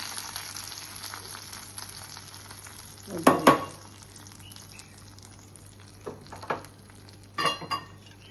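Curry leaves are tipped into hot oil as tempering for a majjige huli, a buttermilk curry with ash gourd, giving a loud sudden crackle and sizzle, then short bursts of spattering and utensil clinks against a low steady hiss.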